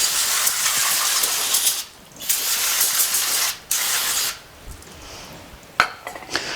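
Aerosol brake cleaner sprayed onto the parking brake shoes of a Lexus LX470 during a rear brake job, several loud close hissing bursts with short pauses and a few metallic clinks.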